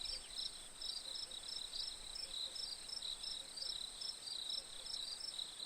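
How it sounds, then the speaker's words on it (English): Crickets chirp steadily at a lake at night, a dense, continuous chorus of high, pulsing trills with regular rhythm, fairly faint and unbroken, with no voices. "I could hear a symphony of crickets chirp and sing to one another"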